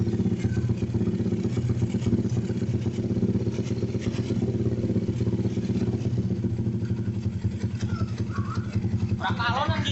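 An old Yamaha Jupiter MX motorcycle fitted with a PE 26 carburetor idles close by with a steady, rattling putter, and someone talks over the engine throughout.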